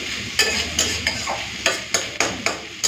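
Banana stem, prawns and potato are stirred in a pan, with about eight rhythmic scraping strokes of a spatula over a low background sizzle, close and fairly loud, with no voice.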